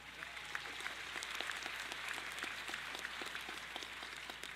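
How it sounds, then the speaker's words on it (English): A graduating class is applauded at a Northwest Mississippi Community College commencement, a steady, dense wash of many hands clapping from a large crowd, sustained and even throughout with no voices rising above it. "That is worthy to be applauded."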